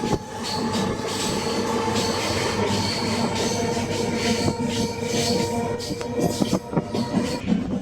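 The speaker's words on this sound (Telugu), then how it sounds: "కృష్ణ ఎక్స్ప్రెస్ చింతకాని నుంచి మన ట్రైన్ బయలుదేరిపోయింది." A MEMU passenger train on the Vijayawada–Bhadrachalam Road line pulls out of Chintakani station, heard from on board as a steady rumble with wheel squeal and rhythmic rail clatter that grows busier toward the end.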